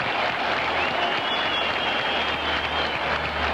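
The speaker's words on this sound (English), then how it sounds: "Here's the ovation for Seaver." A baseball stadium crowd gives an ovation for pitcher Tom Seaver during his one-hit shutout in 1969, a continuous broad roar of cheering and clapping heard from a distance, steady and unbroken.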